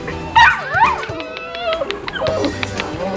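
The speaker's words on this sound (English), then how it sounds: "It looks like they're all lab puppies." Lab puppies at an animal shelter yip, whimper and give short high barks and whines, several close young dogs overlapping in quick bursts.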